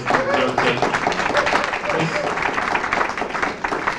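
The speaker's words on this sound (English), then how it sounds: "Give another round of applause" A round of applause at an award ceremony for the bent bicycle industry, dense steady clapping from a crowd filling the whole moment, with voices mixed into the noise.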